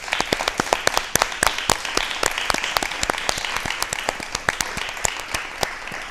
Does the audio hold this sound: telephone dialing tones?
no